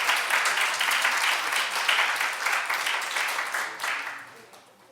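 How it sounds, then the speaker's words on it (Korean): A church congregation applauds a newly married couple, steady moderate clapping that fills the room for several seconds before tapering off at the end. "박수 한번 쳐주세요"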